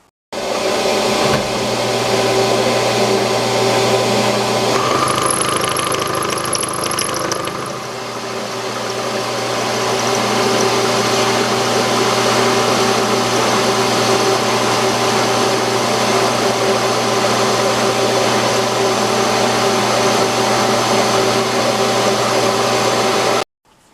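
A metal lathe running continuously, turning a 3/8 inch steel rod down toward 5/16 inch for threading, a loud, steady motor drone with a brief change in tone partway through and no talk.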